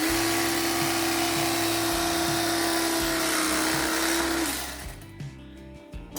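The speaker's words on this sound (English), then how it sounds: "There you have it. Electric knife." An electric knife saws through a loaf of bread, giving a steady, close motor buzz that stops abruptly near the end, leaving a few quieter handling sounds.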